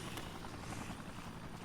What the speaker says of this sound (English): Helicopter, guys.